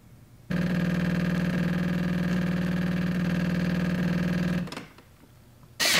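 A Jura E8 super automatic espresso machine brewing a cortado hums and buzzes steadily at close range for about four seconds, winds down, then starts another loud burst.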